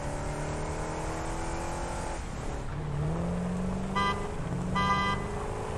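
A truck in a factory-building video game drives along with a steady engine drone, then gives two short, bright horn toots near the end.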